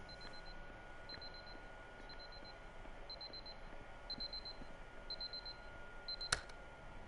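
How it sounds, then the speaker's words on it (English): A haunting alarm in the puzzle video game Superliminal, a faint, repeating high electronic beeping pattern in short bursts over a low hum, with a sharp click near the end and no talking. "haunting alarm."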